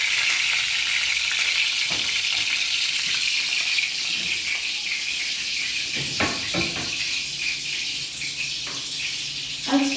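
Chopped tomatoes hit hot tempered oil with black mustard seeds and ginger, giving a steady, bright sizzle and hiss that runs throughout, with a few soft clinks and stirring knocks.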